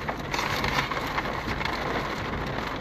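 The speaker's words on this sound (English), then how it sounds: "started to come down on raining now, isn't it?" Rain starting to fall outdoors, a steady patter of drops striking a surface that holds at moderate loudness throughout.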